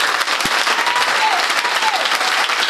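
A church congregation at a community worship service breaks into loud, dense applause that fills the room continuously, with a brief voice rising faintly underneath.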